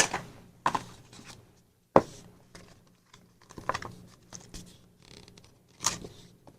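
Scissors snip and scrape at the binding thread of a traveler's notebook, a series of sharp separate clicks and cuts with quiet pauses between them, close and fairly faint.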